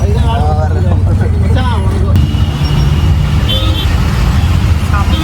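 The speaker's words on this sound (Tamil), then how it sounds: "பல்லாவரம் கிட்ட செம்ம டிராஃபிக்" Heavy road traffic near Pallavaram, Chennai, with a steady roar of cars, buses and trucks and short horn toots, close and continuous. Someone talks over it.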